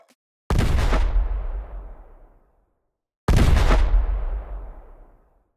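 Two heavy, bass-laden gunshot or explosion blasts for sound design, each a sharp loud impact followed by a long rumbling decay, separated by a silent gap.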